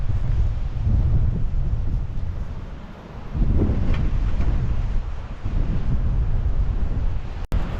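Strong wind gusting across an offroad bush camp, a steady roaring buffet on the microphone that dips briefly and then surges back, loud and continuous with no talking.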